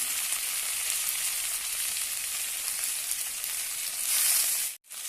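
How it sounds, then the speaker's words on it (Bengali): Ginger, garlic and spices fry in a pan while being stirred, giving a loud, steady, close sizzle that holds throughout and then cuts off abruptly just before the end. "মশলাটা হালকা করে একটু নেড়ে ছেড়ে নেব"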